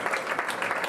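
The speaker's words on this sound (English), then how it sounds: "How about a round of applause for" An audience applauds at a jazz panel discussion in a club venue, a brief, dense burst of many hands clapping at once, steady and fairly close throughout.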